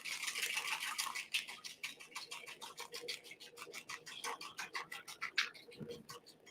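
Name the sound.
whisking vinaigrette ingredients together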